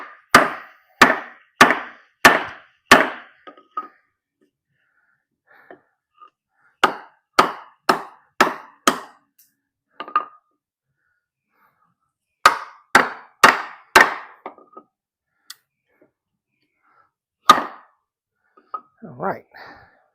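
A Lengren Persian Hunter knife in Sleipner steel notches wood with sharp, close chopping knocks, fired in rapid bursts of four or five strikes separated by short pauses.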